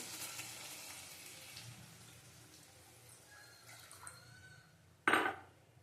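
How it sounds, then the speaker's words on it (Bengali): Water is poured into a pan of eggplant that has been frying, after a quiet stretch of low sizzling; it bursts in as a sudden loud hiss that fades over a second. "জল দিয়ে দেবো, দেখো হয়ে গেছে আমার বেগুনটা কষানো"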